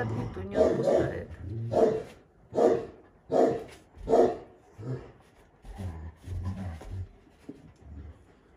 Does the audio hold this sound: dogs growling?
yes